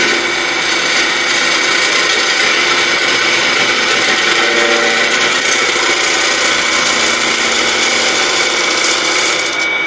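A wood lathe turns a blue gum bowl, giving a steady, loud whirring and scraping drone of the tool cutting the spinning wood that continues without a break.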